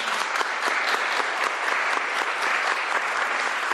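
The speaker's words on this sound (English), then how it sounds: "Give him a round of applause again." A crowd at a governor's bill signing applauds State Representative Joe Fitzgibbon, a dense, loud, continuous roar of clapping that holds steady from start to finish.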